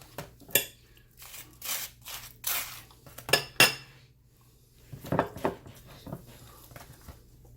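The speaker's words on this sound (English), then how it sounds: "Butter your bread." A metal knife scrapes butter across toasted bread in the kitchen, making a series of short, close, dry scraping strokes and light clinks against a plate, irregular and fairly quiet.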